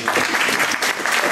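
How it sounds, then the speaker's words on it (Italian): Brief burst of dense audience applause at a LENR conference in Terni, Italy, loud and continuous for just over a second. "facciamo anche l'applauso"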